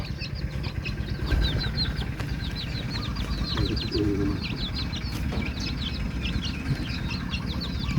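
Chickens cluck and chirp repeatedly in a busy outdoor setting, with scattered bird calls over steady rustling background noise.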